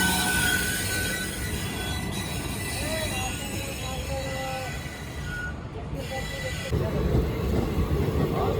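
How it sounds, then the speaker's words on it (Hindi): A Gurumukhi Superfast Express train pulls into Jhajha station in Bihar's Jamui district, with steady rolling rumble, faint thin wheel squeals and a louder surge of rail noise near the end, heard from on board. "ट्रेन पहुंच गई है झाझा"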